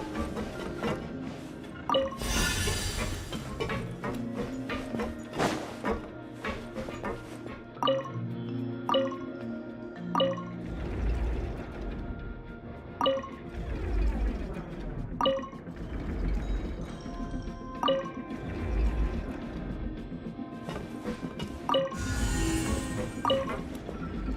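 Water rises and drips in a flooding chamber in the video game Genshin Impact, steady trickling and sloshing with repeated bright droplet plinks and low churning underneath, no voices.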